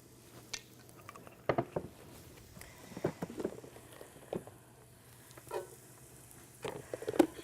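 Onion in a little olive oil fries in a pan with a low, faint sizzle, while scattered soft taps and stirring scrapes come through at close range.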